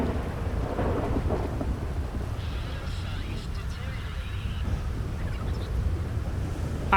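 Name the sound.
storm with thunder and rain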